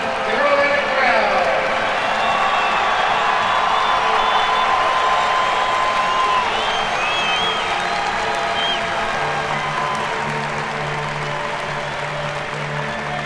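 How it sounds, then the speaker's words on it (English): A large stadium crowd at a drum corps championship awards ceremony cheers and applauds in a broad, sustained roar that gradually eases, with an announcer talking over it. "Listen to this crowd."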